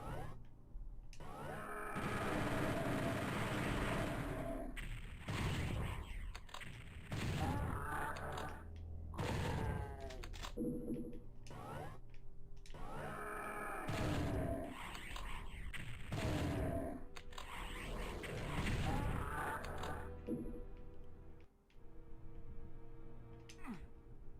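Super shotgun blasts in Doom 64 boom out repeatedly, with mechanical clanks and game effects between shots and a steady loud mix throughout.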